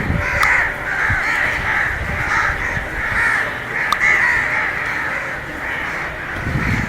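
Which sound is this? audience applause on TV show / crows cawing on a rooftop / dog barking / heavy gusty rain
crows cawing on a rooftop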